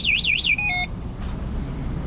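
A Kugoo v3 Pro electric scooter's alarm sounds when its wheel is turned: a short warbling siren of rising and falling tones, then a few quick electronic beeps, followed by quiet background noise.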